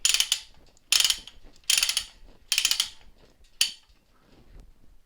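Ratchet mechanism being wound to tighten a trolley: five sharp, loud clicking bursts about a second apart, each fading quickly, close by with no talk.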